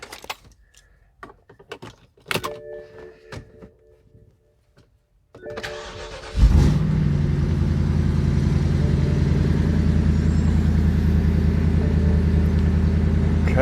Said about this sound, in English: I'm gonna start it up again, let it warm up